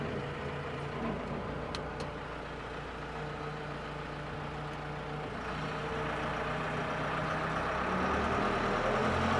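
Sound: JLG Gradall G9-43A diesel telehandler engine starting and running

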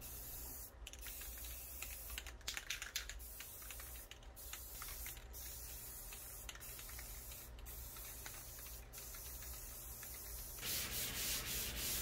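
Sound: sanding sponge on painted surface

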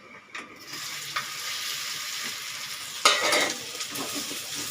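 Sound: taro root (seppankizhangu) pieces frying golden in hot oil

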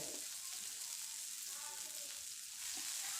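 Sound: chana dal frying in a hot pan

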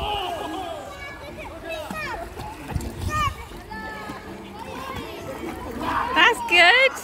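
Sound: child splashing while swimming in pool

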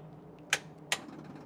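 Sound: SU electric fuel pump ticking

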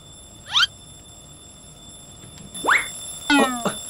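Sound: alarm clock ringing in One Punch Man: World video game

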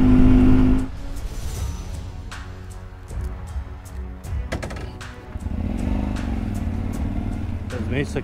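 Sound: motorcycle riding

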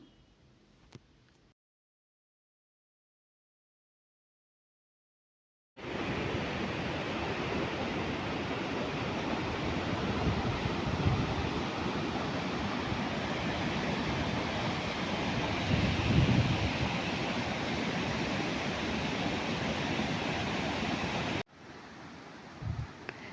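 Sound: fast-flowing flooded stream after heavy rains

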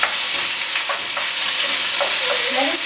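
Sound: wild caught shrimp sizzling in a pan

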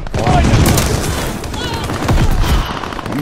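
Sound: gunfire in the video game Call of Duty Vanguard

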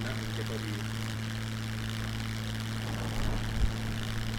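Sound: airplane landing in SCUM video game

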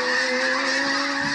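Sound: snow geese flock honking

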